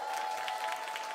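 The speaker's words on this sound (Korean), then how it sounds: "박수 한번 주세요" A concert audience at a band's solo show applauds quietly and evenly in the distance, a soft continuous patter with a faint steady tone running underneath.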